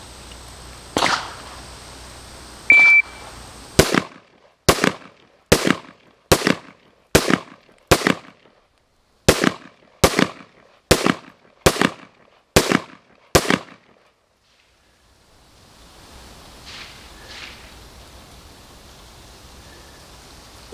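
Sixteen sharp, loud gunshots from a pistol with a red dot sight during a timed shooting drill, fired in quick, mostly even succession with brief pauses between strings, followed by quiet outdoor ambience.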